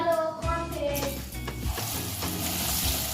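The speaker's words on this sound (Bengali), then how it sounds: "এবার ভেজে নেব।" Bottle gourd leaves dipped in gram flour batter sizzle steadily in hot oil, a dense continuous frying crackle with occasional soft stirring clinks, close and fairly loud with no talking.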